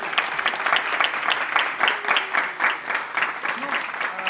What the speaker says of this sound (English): I would like everyone to clap for your parents because they deserve to clap.